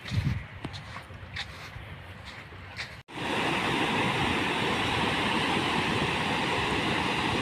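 Sea waves wash onto the shore at a Chennai beach, a steady, loud, broad roar that starts abruptly after a cut and keeps going without a break. Softer ambient noise comes before it.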